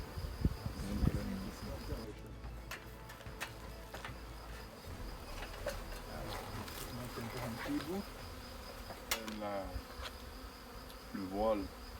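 A dense honeybee swarm, a colony of tens of thousands of bees, hums and buzzes steadily and close by throughout, with a few brief louder passes of individual bees.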